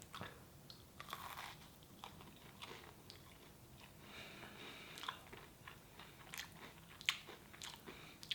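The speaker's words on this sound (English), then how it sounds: "these are home baked and it's still a little warm. So I'm gonna take a bite" Someone bites into a crisp, still-warm home-baked cookie and chews it close up, producing faint crunches and moist chewing sounds against a quiet background.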